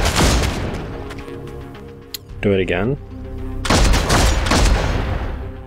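Gunfire in the Warhammer 40k: Deathwatch video game: bursts of shots and a booming blast, with a player talking over much of it.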